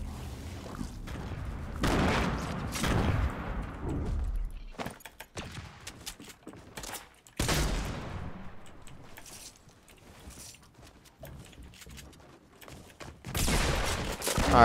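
Gunfire from a battle royale shooter arrives in sharp bursts and single loud shots, with quieter stretches between the exchanges.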